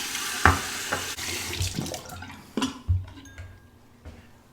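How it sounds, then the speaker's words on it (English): Hot tap water runs and splashes into a ceramic shaving bowl, a continuous close rush with several louder knocks and sloshes as the bowl shifts under the stream. "I'm going to put it under the hot water."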